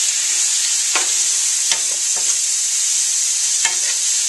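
Tomatoes tumble into a hot pan of oil, setting off a steady, loud sizzle with a few scraping stirs of a utensil through the frying mix. No voices are present.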